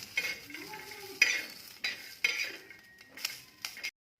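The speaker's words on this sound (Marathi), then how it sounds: "शेंगदाणे ॲड केलेले. त्यांना थोडं भाजून घेऊया." Peanuts are stirred as they roast in a little oil in a pan, with soft scraping and clinking strokes over a faint sizzle, in several short bursts.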